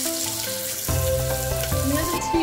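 Chopped onions dropped into hot oil with cumin seeds, the frying jumping suddenly from a quiet hiss to a loud, dense sizzle that holds steady, close by.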